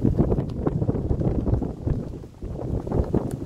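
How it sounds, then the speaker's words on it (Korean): Strong wind on Gwanaksan mountain roars in steady, gusting buffets that rumble loudly against the microphone throughout. "바람 소리가 엄청나죠?"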